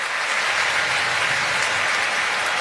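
A baseball stadium crowd during an American League Division Series playoff game between the Blue Jays and Yankees, a steady loud roar of cheering and clapping that holds evenly throughout.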